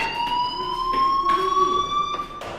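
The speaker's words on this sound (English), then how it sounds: "do you hear that fire alarm? That means you should be outside." A loud electronic fire alarm in the video game Life is Strange rings steadily with high, sustained tones, pulsing slightly, with no voices over it.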